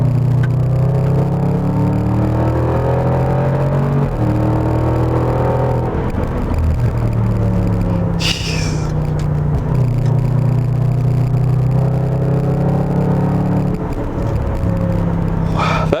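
A 2017 Range Rover Sport SVR drives with a steady low engine rumble, its exhaust giving a brief burst of sharp pops and crackles on overrun partway through, with no talking.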